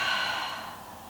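A single long, breathy inhale close to the listener during a Pilates exercise, steady airflow that slowly fades with no talking over it.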